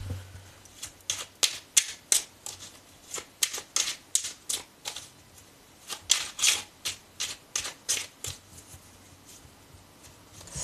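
Tarot cards shuffled and drawn in a series of crisp, rhythmic riffling bursts, close and fairly loud, each repeated in quick succession with brief pauses between them and no talk.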